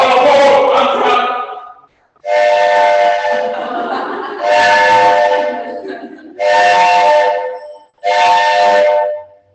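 A human voice imitates an arriving train's whistle, giving several long, loud, wavering hoots in a row, each lasting around two seconds with short gaps between them.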